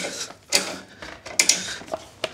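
A car jack raises a Tesla Model Y or Model 3 wheel and tire off the ground, giving a few short mechanical creaks and ratcheting clicks in uneven bursts, close and moderately loud.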